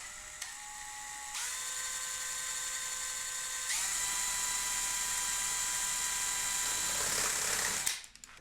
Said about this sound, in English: So I can just stick this in a drill.